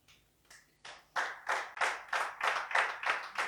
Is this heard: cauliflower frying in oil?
no